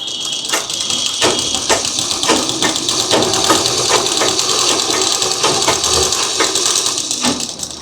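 A sewing machine runs a plain seam joining two pieces of fabric, a fast, even mechanical clatter of needle strokes that holds steady throughout, close by, with no talking.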